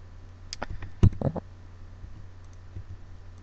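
A computer keyboard is typed on while entering a date in drafting software, giving a short burst of sharp, close clicks and taps followed by sparse keystrokes over a low steady hum.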